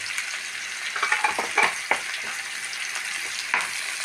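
Crushed black pepper, crushed fennel seeds and curry leaves fry in a pan for okra thoran, giving a steady close sizzle broken by a few sharp scraping stirs, with no talking.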